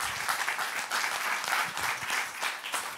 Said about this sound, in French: C'est très bien que vous applaudissiez